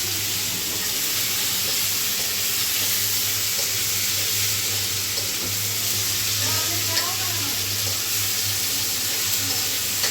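A pan of ingredients for a bitter gourd and shrimp bhuna fries with a continuous sizzle alongside a low steady hum, with faint stirring clinks and brief background voices.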